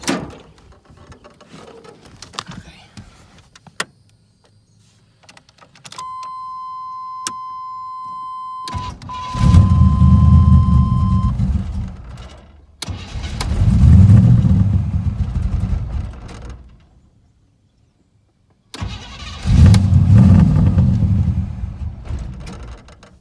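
A third-generation Camaro engine cranks in three long bursts separated by pauses, loud and close, with a brief whine and faint clicks before the first attempt.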